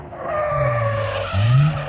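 A drift car skidding at a winter drift day, tires squealing in a long rising howl over engine roar, fairly close, with a second sharper squeal toward the end.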